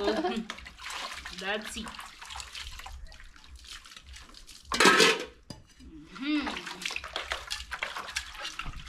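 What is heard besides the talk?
washing dishes, pots and pans with water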